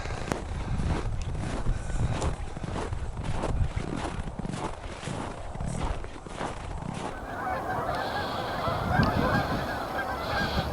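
Snow geese honk steadily near a wilderness park by a river's high-level bridge, a busy flock calling over rustling ground noise, thickening into a dense chorus toward the end.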